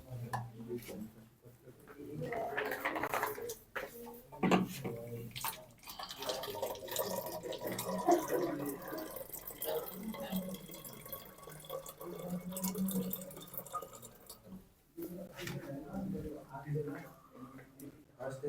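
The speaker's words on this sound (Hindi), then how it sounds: "मैं पानी पी के आता हूँ फिर।" Water runs and drips from a tap while someone fetches a drink, a continuous splashing wash with clatter that lasts throughout, heard under ongoing talking.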